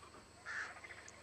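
A bird in Ark: Survival Evolved gives a single short squawk, faint and distant over a quiet ambient background.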